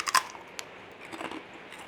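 Crunchy homemade golden pork scratchings are bitten, giving one sharp loud crack followed by a softer snap and a few quieter chewing crunches, close to the ear, with no voices.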